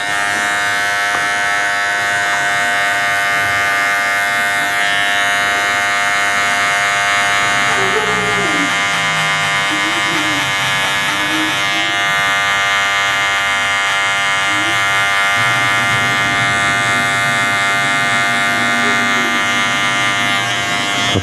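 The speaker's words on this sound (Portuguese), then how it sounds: "vamos passar a máquina meia agora, respeitando o limite da minha 1" An electric hair clipper buzzes steadily and close at hand throughout a barbershop fade haircut, its constant whine shifting slightly as it passes through the hair, with a voice murmuring faintly underneath.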